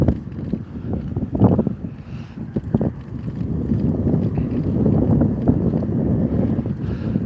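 Wind buffets the microphone during an outdoor morning bike ride in downtown Las Vegas, a loud low rumbling roar that gusts and swells and then holds steady, with no talking.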